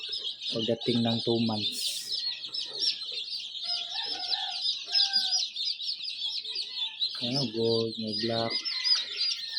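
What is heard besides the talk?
newly hatched chicks chirping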